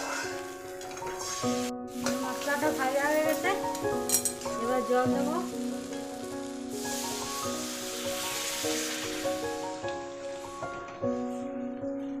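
Pomfret fish frying in a pan with turmeric and salt, a steady close sizzle running throughout with faint harmonic tones and occasional stirring clatter.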